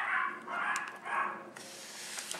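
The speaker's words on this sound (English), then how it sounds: "Sorry, those are my dogs." Two or three muffled barks from dogs in another room of a home, faint and somewhat distant, in quick succession with brief pauses between them.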